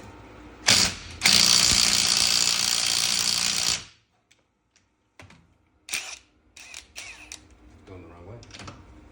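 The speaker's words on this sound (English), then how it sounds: "Now we can safely remove the center nut." An impact wrench or ratchet removes the center nut from a Cadillac CTS4 coil spring strut; a loud, sustained mechanical rattle runs for about three seconds, then stops, followed by scattered clanks and handling sounds.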